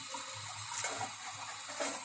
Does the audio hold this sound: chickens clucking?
no